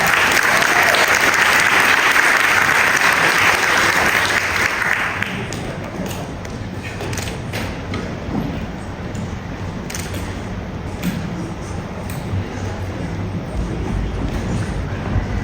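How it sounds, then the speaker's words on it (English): An audience at a national business summit applauds a panel, with loud, dense clapping for about five seconds that then thins to a quieter, scattered patter. "Let's give them a round of applause."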